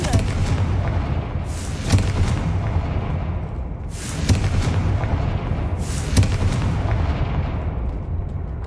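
Blasting spell explosions in the Hogwarts Legacy video game, three loud booming bursts spaced about two seconds apart over a dense rumbling game background.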